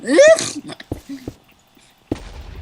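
A high, squeaky sneeze-like burst from a video game, followed by a few short clicks and a sudden low thump, with quiet gaps between.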